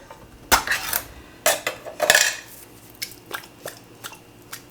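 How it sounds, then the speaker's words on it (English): Wet squelching and metallic scraping as a spoon digs thick condensed cream of mushroom soup out of a can, a few irregular clanks and squishes close by. "What a nasty noise that makes when you scoop out the stuff."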